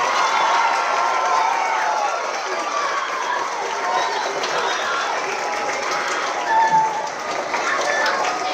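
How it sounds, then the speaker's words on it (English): A standing audience at a high school Veterans Day ceremony gives three students a round of applause, a dense, steady wash of clapping from many hands that holds for several seconds in a large room. "Can we please stand and give these three students a round of applause?"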